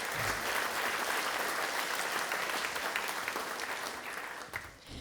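An audience applauds a young flautist after her grade 7 achievement, dense continuous clapping from the start that slowly thins and fades toward the end.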